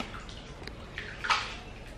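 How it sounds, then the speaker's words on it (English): Butter leaf lettuce is rinsed in water at home, giving soft splashing and trickling with a brief louder slosh, close and fairly quiet. "Washing the butter leaf."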